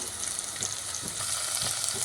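Steady crackling sizzle of vegetables and ginger paste frying in a pan, with faint scraping strokes of stirring every so often, close and continuous.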